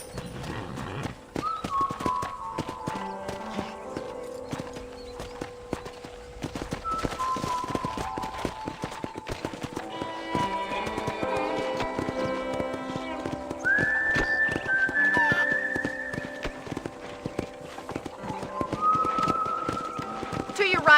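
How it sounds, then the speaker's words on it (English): Horse hooves clip-clopping during riding in the Red Dead Redemption video game, a steady rhythmic trot running throughout under game music and a character's voice, with a horse whinny partway through. "let's see if you can still ride a horse"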